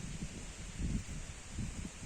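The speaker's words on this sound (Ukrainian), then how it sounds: "Ось він осинка, і ось воно тремтить. Бачите, подих вітру" Wind stirs young aspen leaves outdoors, a faint, steady airy rustle with soft low gusts swelling and easing over about two seconds.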